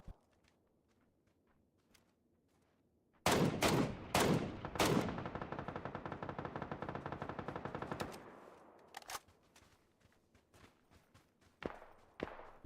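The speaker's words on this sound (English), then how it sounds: "Busily shooting at some other lads," PUBG gunfire opens with several sharp single shots, then a sustained automatic burst lasting about three seconds, followed by scattered fainter shots and clicks. It sounds loud and close, with no talking.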